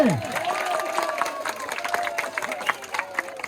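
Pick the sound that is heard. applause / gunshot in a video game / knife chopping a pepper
applause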